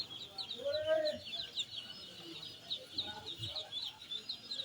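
Chickens cluck softly at a hatchery, a few faint calls over a quiet background with high chirps running throughout.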